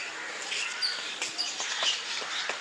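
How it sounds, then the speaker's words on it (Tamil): A sparrow chirps in quick, bright, repeated tweets at a park by Mettur Dam, close and clear over a quiet outdoor background. "சிட்டுக்குருவி."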